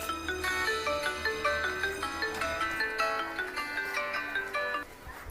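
Phone ringtone playing a repeating bright melodic pattern of electronic notes, steady and fairly loud, looping several times before cutting off near the end.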